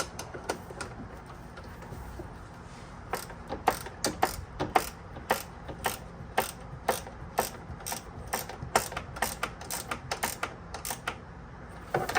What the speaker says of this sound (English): These gear wrenches are probably the best invention ever made.